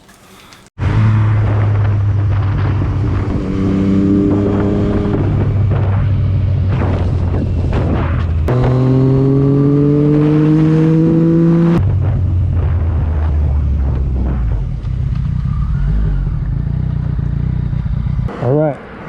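A motorcycle ridden on a hot 40-degree day, engine rising and falling through gear changes with rushing wind noise over the microphone, loud and close throughout after a brief quiet start.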